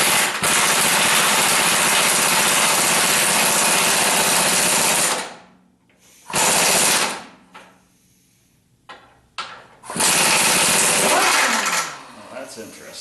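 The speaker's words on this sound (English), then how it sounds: "taking off the other end with an 11/16 impact on an impact wrench" An impact wrench with an 11/16 socket spins a nut off a 1976 Corvette upper control arm, loud sustained buzzing bursts up close, a long run then shorter blasts separated by quiet pauses.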